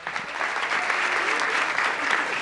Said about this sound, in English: Group one, big round of applause.